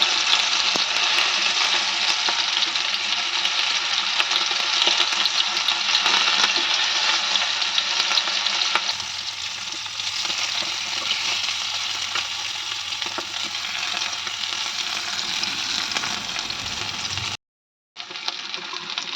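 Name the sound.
garfish frying in a pan with curry leaves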